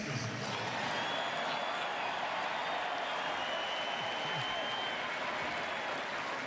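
Stadium crowd at Derek Jeter's Hall of Fame tribute night at Yankee Stadium roaring with cheers and applause, a dense, loud, continuous wash of clapping and shouting that holds steady throughout.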